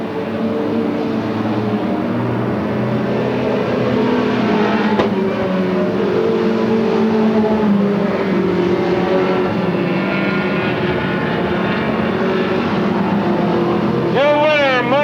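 Stock cars roar through the last lap of a race at Lakeport, California, a steady dense engine drone throughout with a public-address announcer talking over it.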